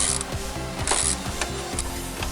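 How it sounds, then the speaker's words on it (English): Ratchet tightening the two 10mm bolts on a timing chain tensioner of a 2001–2008 Ford Escape engine, with a close, rapid clicking of the pawl in short bursts and small metallic scrapes, no talk. "all we need to do now is tighten the two 10mm bolts on the tensioner"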